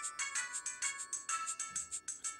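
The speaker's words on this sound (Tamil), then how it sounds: "ஃபோன் அடிக்குது" A mobile phone ringtone plays on a televised singing show, a bright repeating melodic pattern of quick pulsing notes, close and clear without talk over it.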